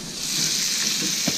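Scallops searing in a hot pan give off a loud, steady, hissing sizzle, close up and unbroken, with one brief soft bump near the end.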